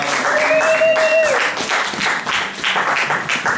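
A church congregation applauds loudly during a worship service, with a dense, continuous roar of clapping that stays close and strong. Early on, a high sustained tone or voice rises briefly above the applause.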